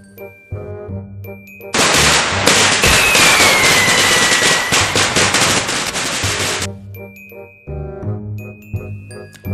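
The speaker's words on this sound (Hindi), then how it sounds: "आतिशबाजी का क्या नजारा बंधा था।" Fireworks and firecrackers going off: a dense, loud burst of rapid crackling pops and bangs with a whistling rise, lasting several seconds before tapering off, with musical tones sounding before and after.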